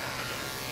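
An electric clipper buzzes steadily and close while grooming a senior Maltese dog, a continuous dense hum with no breaks and no talking.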